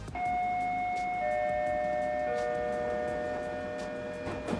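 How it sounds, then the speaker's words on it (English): Chime of the Detroit People Mover rings out in sustained, steady electronic tones layered over a dense background wash, holding clearly for several seconds before easing slightly. "if you hear the people mover chime right here"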